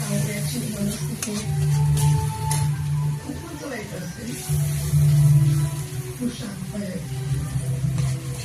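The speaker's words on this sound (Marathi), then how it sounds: "आता हे बघा आता हलवून घेते मम्मी।" Paneer bhaji frying in a pan is stirred, giving soft scraping and a low sizzle beneath a speaking voice, steady and close.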